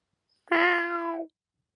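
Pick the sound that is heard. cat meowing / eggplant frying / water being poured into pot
cat meowing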